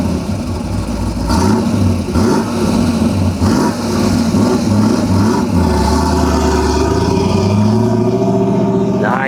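A 1968 Chevrolet Camaro passes by, its engine note rumbling and revving steadily as it approaches and moves past, loud and fairly close with no talk over it.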